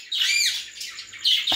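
A peacock gives a short, loud, harsh squawking call, close by and heard on its own, ending in a sharp burst.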